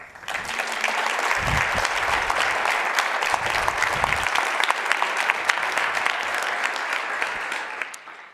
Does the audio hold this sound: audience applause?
yes